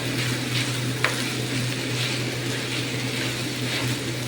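Fried potatoes and carrots stirred with tomato paste in a hot pan for beef giniling, a continuous close sizzle with scraping stir strokes and a brief clack of the utensil.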